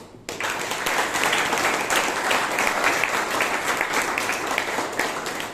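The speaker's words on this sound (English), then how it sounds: "Let us all give a huge applause to our new members." Applause for new members at a Toastmasters meeting in Bangalore: dense, even clapping from a room of people, starting abruptly and holding steady throughout.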